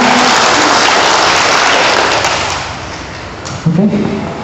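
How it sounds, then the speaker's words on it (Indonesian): Elementary-school art teachers in a pantomime training session clap their hands together in a loud, dense burst of applause that fades over a few seconds, followed by a brief thump. "Tepuk tanganmu, kita keluar."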